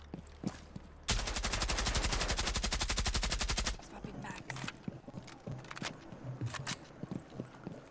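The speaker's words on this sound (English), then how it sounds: "Fuck me, they're shooting us and they ain't even inside" Rapid automatic gunfire from enemies in the Rainbow Six video game, a loud sustained burst of about two and a half seconds, followed by scattered footsteps and lighter clicks.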